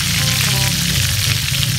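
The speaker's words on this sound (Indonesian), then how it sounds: "Nah, kita goreng dulu." Salted fish (ikan asin) fries in hot oil with a loud, close, continuous sizzle and crackle, no voices over it.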